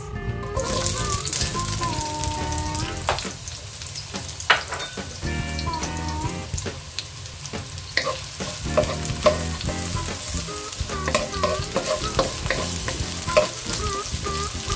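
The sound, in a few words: onion frying in oil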